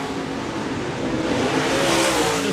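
USMTS modified race cars roar around the dirt oval at Park Jefferson Speedway, a loud, continuous engine drone that swells slightly as the pack runs under heavy lap traffic.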